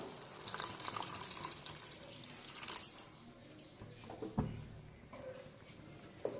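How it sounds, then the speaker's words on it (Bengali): Water is poured into a cooking pan for a village-style fish curry, giving faint splashing and trickling bursts with a few clinks and drips, quiet and close. "স্বাদ মতো নুন দিয়ে দেবো পরিমাণ মতো জল"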